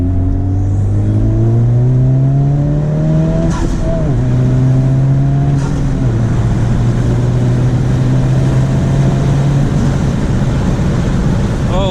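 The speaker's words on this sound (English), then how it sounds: "Did you guys hear that the intake is so much louder now?" A Honda Civic Type R FL5 with a Hondata Flash Pro tune accelerating hard in 3rd gear from about 3,000 RPM, its loud intake and engine note climbing steadily, pausing briefly at a shift, then rising again, close and inside the cabin.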